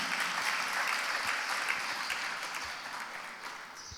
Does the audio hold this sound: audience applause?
yes